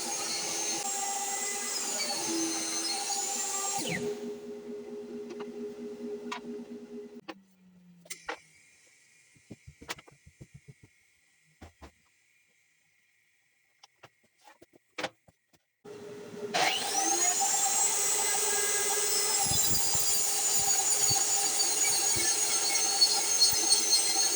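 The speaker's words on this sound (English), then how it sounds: "we need to cut a channel or a rabbet, for all you animal lovers out there, on the back inside edge of this frame" A power saw cutting a rabbet along the back inside edge of a scrap-wood spline frame, a loud steady whine that drops away into near silence with light handling taps, then resumes strongly.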